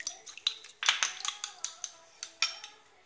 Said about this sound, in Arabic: نحرك هاد البيضه